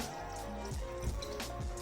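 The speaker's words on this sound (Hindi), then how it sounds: "इसके अंदर मैं डाल दूंगी 1 गिलास के जितना पानी" About a glass of water poured into a cooking pot of mutton liver and kidneys, giving a steady, close splashing and trickling that runs throughout.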